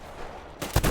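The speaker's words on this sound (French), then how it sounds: "Là, il me tire dessus, clairement." Gunfire in the video game Metro Exodus, with a low rumbling game ambience followed by two or three sharp, loud shots in rapid succession near the end.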